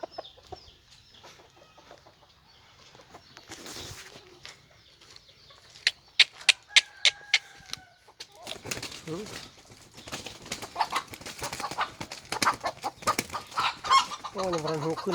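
Chickens cluck in a sparse string of sharp calls, then break into a rush of rustling wing flaps mixed with more clucking that grows busier and louder toward the end.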